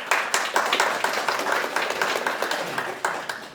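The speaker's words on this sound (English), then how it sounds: "Please, you're clapping into my time." Clapping from the audience at a candidates' forum in Tuross Head, a short burst of hand claps from a modest crowd with uneven individual claps, fairly close and fading a little toward the end.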